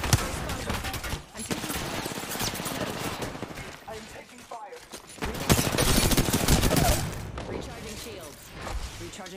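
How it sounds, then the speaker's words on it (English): Rapid gunfire in a shooter video game: dense, loud volleys of automatic shots in sustained bursts with brief gaps, mixed with in-game character voice lines. "Opening fire. I'm taking fire. I'm taking fire."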